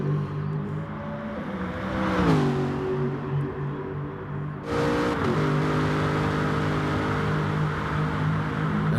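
Aston Martin Supercars racing at Bathurst in a racing game, a loud close engine howl whose pitch sweeps down through gear changes, then another car roars in with high revving engine tones, no talking.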